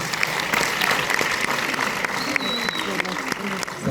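Audience at a film premiere clapping, a loud dense burst of applause with crisp claps close by, mixed with crowd voices and talking underneath throughout.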